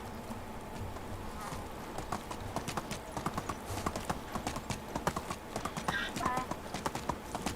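A donkey in the Medieval Dynasty video game trots with steady clip-clopping hooves that grow more distinct over time, while someone talks throughout and faint insect buzzing sits in the background.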